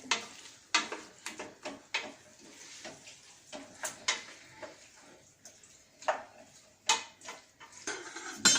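Spices are stirred in a pot for couscous, with repeated close scrapes and clinks of a spoon against metal in irregular bursts and a soft sizzle between strokes. Nobody speaks.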